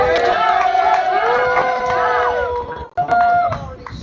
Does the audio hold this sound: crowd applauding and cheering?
yes